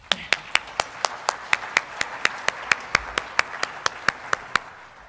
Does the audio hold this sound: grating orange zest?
no